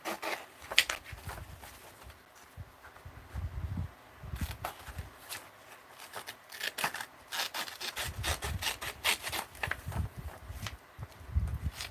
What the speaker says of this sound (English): I'm just going to cut out the picture first.